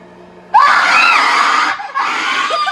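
A Halloween animatronic prop at a Spirit Halloween store lets out a loud, close, shrill scream that breaks off briefly and then resumes.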